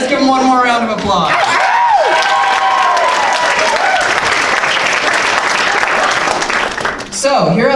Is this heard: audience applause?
yes